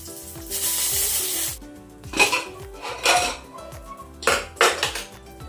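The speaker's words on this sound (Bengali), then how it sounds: "গোটা জিরেটা ফোড়নে দিয়ে দিলাম। আর এই লঙ্কাগুলোকে ছিঁড়ে ছিঁড়ে দিয়ে দিলাম।" Whole cumin seeds and torn chillies hit hot oil with a bright burst of sizzling, followed by clanking of a spoon against the pan in short loud bursts, close and without talk.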